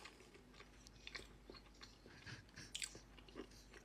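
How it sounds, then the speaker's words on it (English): Someone chews a milk-dipped Oreo close to the mic, with soft, wet, irregular bites and mouth noises and no talking. "Listen to her chew."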